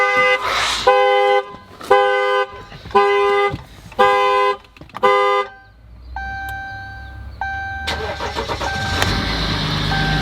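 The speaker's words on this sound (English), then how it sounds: "Guess we're about to set the alarm off." Close and loud, a pickup truck's alarm sounds its horn in a string of regular honks before the engine cranks and starts into a steady idle.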